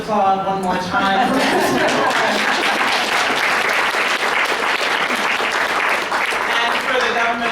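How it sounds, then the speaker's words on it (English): An audience at a policy event on paid child leave applauds warmly, loud continuous clapping swelling in after a speaker's closing remarks, with a brief voice faintly audible at the start. "Can we just please applaud one more time?"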